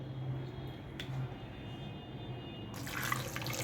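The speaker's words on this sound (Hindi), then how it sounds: "यहाँ पे हम थोड़ा सा इसके अंदर पानी ऐड करेंगे" Water poured into a grinder jar holding green chillies, garlic and ginger, a soft steady trickle through most of the clip that swells into a louder, brighter splash near the end, with no talking.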